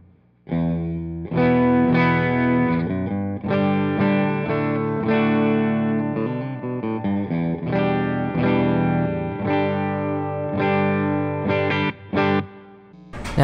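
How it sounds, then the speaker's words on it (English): Clean electric guitar played straight into a Fender Super Reverb style amp head with no pedals, sustained chords and picked notes ringing loud and close with steady strumming throughout. "this is just the guitar going straight into an amp. It's kind of a Fender Super Reverb style amp head."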